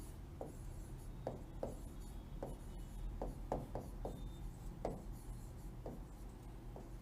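Chalk or a marker scratches out a point on a classroom board in short, faint strokes spaced irregularly, with quiet room noise and no talking.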